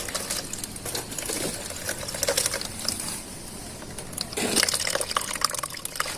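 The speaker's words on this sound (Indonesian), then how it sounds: "Langsung saja kita tuangkan airnya ya." Water is poured into a newly fitted waste pipe trap, pouring and gurgling steadily at close range and swelling louder toward the end, with no one speaking.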